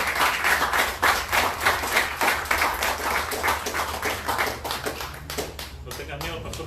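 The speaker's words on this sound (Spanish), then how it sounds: "Venga, un aplauso para él." A church audience gives a round of applause for a pastor, steady clapping from many hands filling the space for several seconds, with a voice speaking over it.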